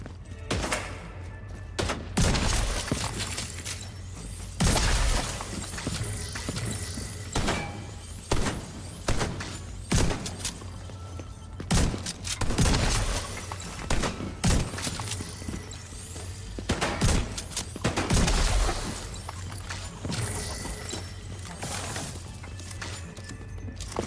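Rapid video game gunfire crackles in dense bursts with sharp shots and clanks, steady and close throughout, with no voices over it.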